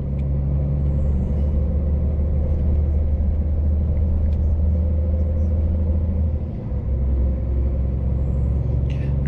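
A truck drives along a toll road in Spain with a steady, loud low rumble of engine and road noise that holds constant throughout.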